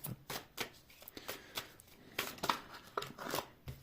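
Playing cards are shuffled up close in quick riffling bursts, a crisp fluttering rattle repeated several times in a row.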